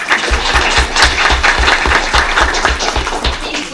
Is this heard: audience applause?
yes